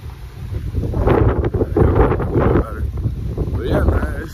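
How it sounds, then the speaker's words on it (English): Wind buffets the microphone in low, rumbling gusts, with a faint voice underneath and a brief whistling tone near the end. "It's kind of windy right now."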